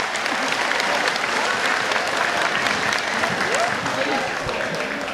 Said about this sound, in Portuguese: salva de palmas para a minha querida sogra Isabel aí.